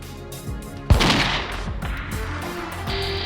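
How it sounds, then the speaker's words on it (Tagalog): A sharp, loud gunshot crack rings out before dawn in an exclusive residential village in Makati, followed by further fainter bangs and echoing reports, three shots in all, mixed with background noise. "Umalingaw-ngaw ang 3 putok ng baril sa isang exclusive village sa Makati."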